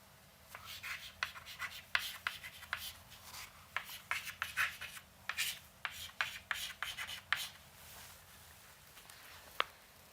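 Chalk or marker taps and scratches across a lecture board in quick irregular strokes, close and fairly quiet, with short bursts separated by brief pauses and no talk over them.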